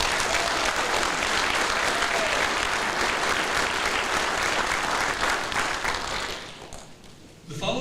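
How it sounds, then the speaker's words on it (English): Dense, sustained applause from a ceremony audience honoring White Sands Missile Range employees, loud and continuous before tapering off near the end. "Let's give these employees a round of applause"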